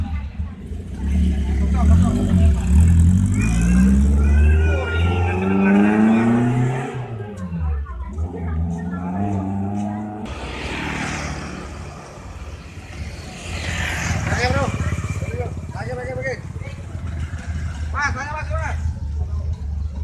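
A motor vehicle engine roars loudly and steadily nearby in Indonesian street traffic, rising and falling as it passes, with people talking over it throughout.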